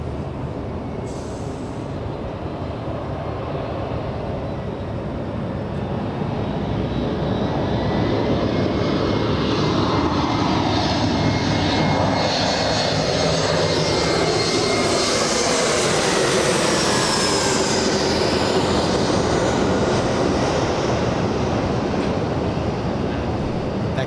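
A fixed-wing airliner arriving at Los Angeles International Airport from Sacramento, its jet engines roaring loudly and steadily as the plane passes close by, the sound swelling and holding for many seconds with no voices over it.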